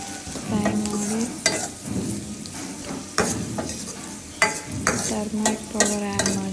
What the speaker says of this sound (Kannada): ಆಯಿಲು, ಆನಿಯನ್, ಬೆಳ್ಳುಳ್ಳಿ, ಗ್ರೀನ್ ಚಿಲ್ಲಿ, ಮಸ್ಟರ್ಡು ಎಲ್ಲ ಹಾಕಿ ಫ್ರೈ ಮಾಡೋದು